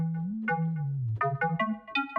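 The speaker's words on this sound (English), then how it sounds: "An arpeggio sounds like this." Arpeggio played on a synthesizer in Logic: a short, clean sequence of rising and falling tonal notes, each note distinct, about a dozen in quick succession, close and alone.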